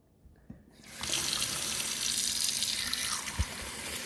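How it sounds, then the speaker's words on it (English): Warm water runs from a sink tap into a container, a steady close rushing stream that starts after a brief quiet moment with a faint knock, then continues alone. "let's bring it over to our sink and let's add the water right in the container"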